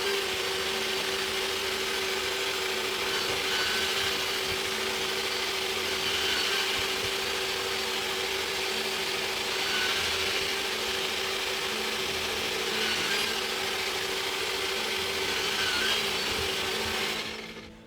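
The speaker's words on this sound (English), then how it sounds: "now I can use my pilot drill and I can drill pilot holes" A power drill boring pilot holes whines steadily at close range, a continuous grinding hum through wood that holds for the whole stretch and cuts off at the end.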